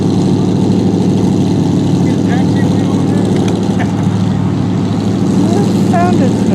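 A car engine runs at a car show, a steady low rumbling drone throughout with a broad mechanical hum, close and constant, under faint crowd noise with brief distant voices.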